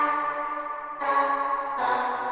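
A sustained vocal one-shot drenched in heavy Valhalla VintageVerb reverb, sounding as a washy, bell-like tonal swell that renews twice in overlapping layers, loud and alone with no talking.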